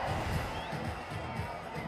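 A cricket crowd roars in a sustained, broad wash of noise after a catch in an India A versus Pakistan A match, with a commentator's voice running over it.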